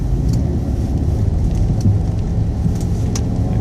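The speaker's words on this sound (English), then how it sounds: "pulling off with traction control on" Car pulling away on Continental Extreme Winter Contact winter tyres with traction control active, a steady loud low engine and road rumble throughout with no talking.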